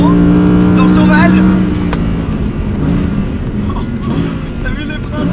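An Audi R8 GT with a naturally aspirated V10 engine drones loudly from inside the car at a steady pitch, then eases off and rises again, while people talk over it.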